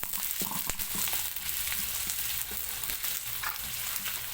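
Onion frying in hot oil in a pan, a steady loud sizzle with occasional stirring clatter, no voices, throughout.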